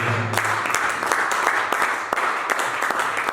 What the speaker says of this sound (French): Acclame Jésus pour ça